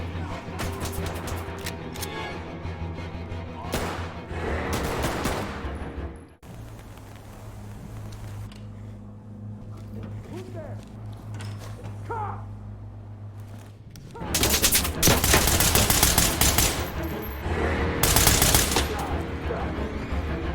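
Enemy AI gunfire in Ready or Not on the Hardcore Tactical mod: bursts of rapid automatic shots in two dense volleys, loud and close, separated by a quieter stretch of lower rumble.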